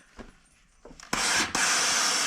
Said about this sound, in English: Let's steam this really good.